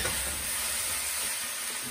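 Pak choi stir-fried with garlic and ginger sizzles steadily in a hot pan, giving a close, continuous hiss with faint scraping as it is tossed.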